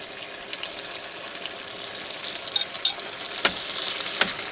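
Food sizzles in a pot on a gas stove at a campsite, a soft crackling bed broken by a few sharper pops and clinks toward the end.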